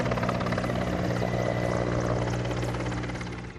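Indian Air Force aircraft fly over Delhi hospitals in a flypast, a loud sustained helicopter-like rotor and engine drone that holds steady and then begins to fade toward the end.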